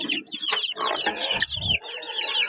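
Rhode Island Red and Basilan crossbreed chickens cluck and chatter close by in a busy overlapping flock inside a coop, with steady noise and no pauses.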